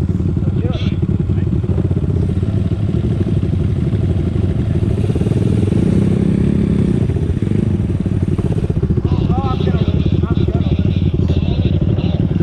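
Small 1970s Honda mini bike motorcycles ride along together, a constant buzzing engine drone with shifting revs and wind noise, while riders talk over it.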